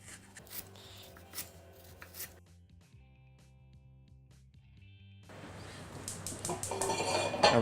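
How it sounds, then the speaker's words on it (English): Knife slicing an onion into thin julienne strips on a board, a run of crisp quick cuts, then a quiet pause, then a faster, louder series of close chopping and scraping taps. "we'll turn it on its side and make some really thin julienne slices"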